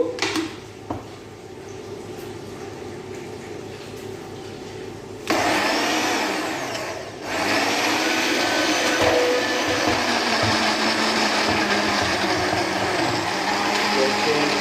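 An electric blender whirs loudly as it purées watermelon with half a green lemon, switching on abruptly to a steady high-pitched roar that dips briefly before settling into a constant grinding hum.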